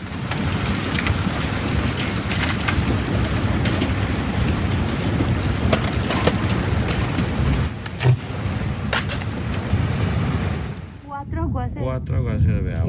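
Heavy rain pours down and a flooding Teufbach stream rushes in Switzerland, a dense continuous roar of water with scattered sharp splashes and thuds. The noise cuts off abruptly near the end.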